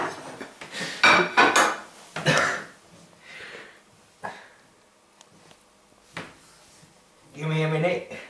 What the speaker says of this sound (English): Tip the potato chunks into the pan.